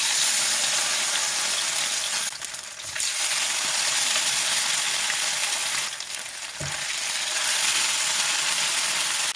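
Fish pieces sizzle steadily in a thin layer of preheated oil, a dense continuous crackle with brief dips where pieces are added or shifted, close and alone without voices.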